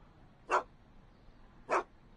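A dog named Einie in a Back to the Future video game gives two sharp, separate barks about a second apart, moderately loud over a faint steady background.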